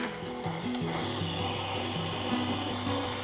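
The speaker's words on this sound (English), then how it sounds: "And continue to beat until the mixture is fully combined." An electric mixer beats hot milk cake batter in a bowl, a steady close whirring motor hum with a rhythmic wobbling pitch and scraping texture throughout, no talk.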